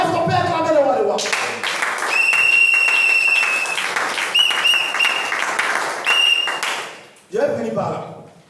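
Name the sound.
congregation applauding to acclaim the king of kings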